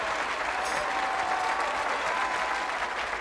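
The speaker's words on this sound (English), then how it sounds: "let's give them a nice big round of applause." Steady audience applause following a stage magic trick with linked rings at a comedy show, a continuous, moderately distant patter of clapping with no talk.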